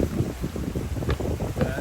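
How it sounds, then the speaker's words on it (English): Gusty wind at a rocky beach in Barotac Viejo, Iloilo, Philippines buffets the microphone in a steady low rumble, blustery and close, with no other clear sounds. "A little more windy down around the point here."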